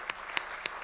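Audience applause at a launch event, heard as a brief spatter of a few sparse, distant claps.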